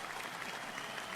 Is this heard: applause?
yes